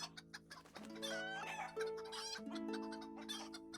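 Chickens cluck and squawk in the video game There and Bawk Again, a close, busy run of overlapping calls and clucks, with no talk.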